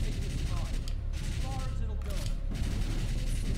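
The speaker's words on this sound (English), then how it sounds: "See, the Gatling gun." Gatling gun fire in the arcade shooter House of the Dead Scarlet Dawn, a dense, continuous rattle with chirpy game effects layered over it, held steady at a loud level throughout.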